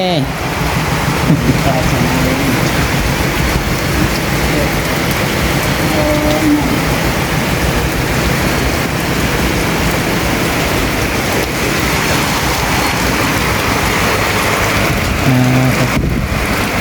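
Heavy rain pours steadily and loudly on surfaces outdoors, a dense unbroken hiss throughout, with faint voices now and then beneath it.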